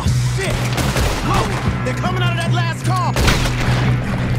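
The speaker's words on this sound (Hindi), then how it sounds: "गुड शॉट, बहुत ही जबरदस्त शूटिंग है इस गेम की" Gunfire in Red Dead Redemption 2 crackles as a busy exchange of shots under a low droning background, with faint voices and effects mixed in.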